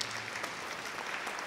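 Audience at a Romanian musical performance applauding after an excerpt, dense steady clapping filling the whole brief moment, moderately distant.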